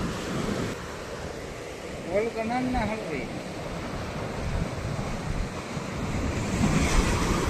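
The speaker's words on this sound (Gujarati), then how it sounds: "જાતી વેળે તો એટલા મોજા ઉજળવા માંડ્યા" Steady rushing surf of ocean waves at Miyani on the Gujarat coast, broad and continuous, swelling louder toward the end; a brief tonal voice-like sound rises partway through.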